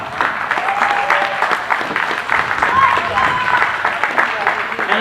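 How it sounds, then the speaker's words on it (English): An audience at a Wrestle Club wrestling event claps steadily for several seconds, a dense wash of hands with a few whistles, as crowd voices mix in throughout. "Please give yourselves a round of applause."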